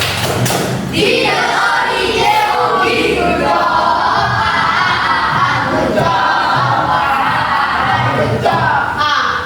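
A classroom of students performs a rhythmic clapping chant, loud and close, with thumping claps and group voices shouting together throughout.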